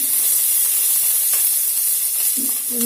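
Onions and green chilies hit hot oil with cumin in a pan, giving a loud, continuous close-up sizzle and hiss that stays steady throughout, with a brief clink near the end.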